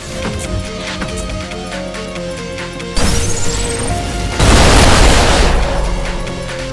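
Heavy rail cannon shot in the Ultrakill video game, a sharp boom with a rising electric whine, then a loud broad crashing blast that lingers over steady game background noise.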